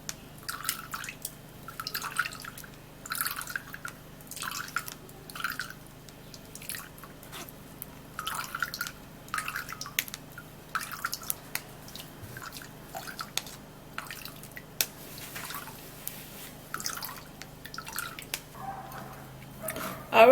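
Liquid from a blended ingredient being pressed through a sieve in a kitchen, heard as soft, irregular drips and squishy wet presses repeating over a quiet background.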